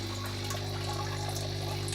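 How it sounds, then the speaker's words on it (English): A small aquaponics water pump pushes water up to a four-way splitter, giving a faint steady hum with a constant low trickle of water, close and unchanging. "this little pump that could here is now putting water up to a 4-way splitter"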